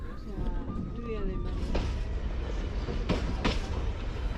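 A passenger train runs through the Puno highlands toward Cusco, with a steady rumble and rattle of the carriage, occasional metallic squeals, and voices talking inside.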